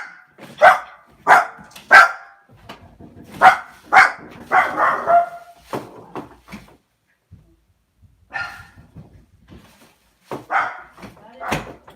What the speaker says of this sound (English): somebody's at the door, she barks